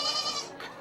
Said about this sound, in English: So y'all got your goat right there, though.